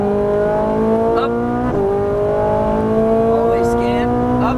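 A Ferrari 458 on a race track pulls hard through its gears, and its loud engine climbs in pitch, drops sharply at an upshift and climbs again. The engine noise is close and continuous, with a voice talking over it at moments.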